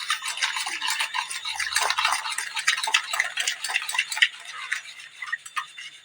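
Fast, light ticking of a whisk beating yogurt in a bowl, a steady rapid clatter that runs on throughout without pause.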